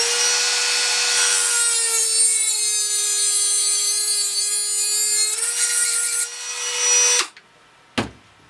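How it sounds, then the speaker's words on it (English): A Dremel rotary tool cutting through small brass tubing held in pliers, a loud high whine sustained for about seven seconds, its pitch dipping as it bites, then stopping, followed by a single sharp click. "turn on the Dremel"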